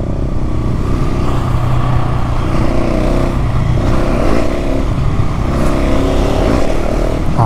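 A 2023 GasGas SM 700 supermoto motorcycle engine runs loud and steady, with revving for a wheelie, close to the recorder throughout.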